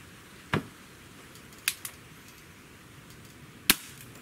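A Beeman R7 air rifle fires in a quiet room: a sharp, close snap, followed by a few fainter clicks and knocks, then a second crisp crack near the end. No one speaks.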